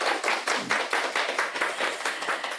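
Steady applause from a lecture audience for a priest, many hands clapping in a dense, even patter that holds for a few seconds with no talking.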